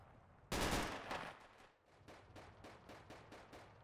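Gunfire from the tactical shooter game Insurgency: one loud close burst that rings out, then a steady run of about a dozen rapid, evenly spaced shots, a bit quieter and further off.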